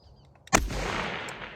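A single sharp precision rifle shot cracks out loud and close on a long-range shooting course, followed by a long rolling boom that slowly decays.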